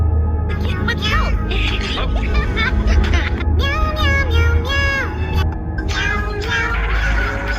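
A cat meows repeatedly in drawn-out, rising and falling calls, loud and close, over a steady background of music and some chatter.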